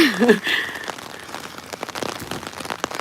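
Steady rain patters on the ground and surfaces during an outdoor remembrance walk, a continuous soft hiss broken by scattered louder drops, with a brief voice-like tone near the start.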